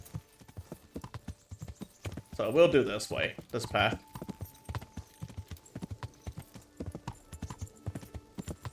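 Rhythmic hoofbeats of a trotting horse in the video game Kingdom Come: Deliverance clip-clop steadily throughout, with a person talking over them and a brief louder vocal burst midway.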